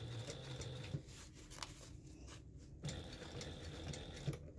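Sewing machine stitching piping onto a custom cushion, its steady mechanical whir running continuously with brief pauses and small clicks, close and moderately loud.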